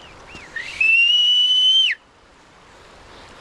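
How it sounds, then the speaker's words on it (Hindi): A single long, steady whistle answers from a distance on a mountain trek in Kashmir, rising briefly, then holding a clear pitch for about a second before cutting off, with quiet open air around it. "ये यहाँ से सीटी बजाइए,"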